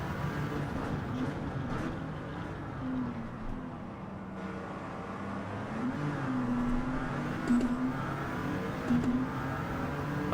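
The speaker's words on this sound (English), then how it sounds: "I just punched the throttle down again just to try and correct that back end" A race car engine in a racing video game hums steadily, rising as the throttle is punched, with a continuous droning tone and faint wind and tyre noise underneath.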